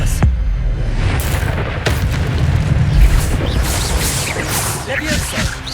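Incendio and Expelliarmus spells cast in Hogwarts Legacy, heavy booming spell impacts and bursts over a continuous rumbling battle bed, with a voice calling out the incantations.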